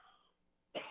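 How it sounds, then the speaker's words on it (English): A single loud, close cough bursts out at the end of a radio show moment, following a faint trailing voice. "That's not a dry cough"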